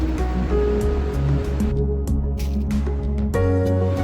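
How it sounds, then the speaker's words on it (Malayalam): A mixer grinder runs continuously, grinding coconut, turmeric, cumin, pepper, dried chilli and garlic into a paste for Kerala pumpkin curry, a loud steady whirring churn with no talk over it. "അരപ്പ് നമുക്ക് ഒരു മിക്സിയിലിട്ട് തേങ്ങയും മഞ്ഞളും ജീരകവും കുരുമുളകും വറ്റൽമുളകും വെളുത്തുള്ളി എല്ലാം കൂടെ നന്നായിട്ട് അരച്ച്"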